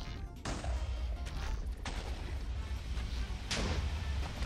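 Gunfire from a scoped gun in the video game RLCraft, a few sharp shots spread across the clip over a steady rumbling game background, with no talking.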